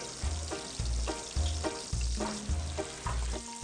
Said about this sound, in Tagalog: Sunod na magpainit ng mantika sa non-stick pan. So lagyan na natin yung ating egg white.